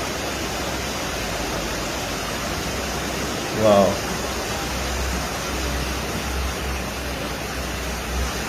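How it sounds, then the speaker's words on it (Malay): Fast floodwater in Malaysia rushes past houses sunk up to their roofs, making a steady, loud, broadband roar throughout, with one brief spoken exclamation partway through. "Air dia deras gila ni."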